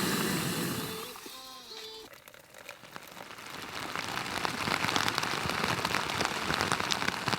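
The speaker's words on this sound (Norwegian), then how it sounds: "Det fortsetter å regne" Steady rain patters on a tent pitched on the open Hardangervidda mountain plateau, a dense even hiss that swells slightly louder after the first couple of seconds, with no talk.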